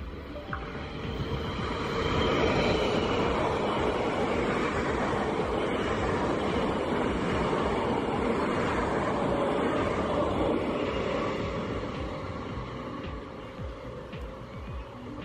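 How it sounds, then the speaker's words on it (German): An Austrian CityJet Express train bound for Vienna rolls through near Schlöglmühl station with a steady rumble of wheels and a broad mechanical hum that builds, holds and slowly eases off. No speech is heard. "Auf diesem kam nach kurzer Zeit mein Zug gefahren, wieder ein CityJet Express, diesmal nach Wien."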